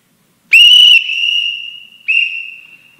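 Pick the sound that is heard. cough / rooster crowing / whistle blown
whistle blown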